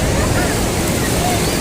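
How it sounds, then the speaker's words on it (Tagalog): Strong, large ocean waves breaking at Patar Beach in Bolinao, Pangasinan, a continuous loud roar of surf with wind buffeting the microphone. "ang lalakas po ng alon, malalaki po yung alon doon"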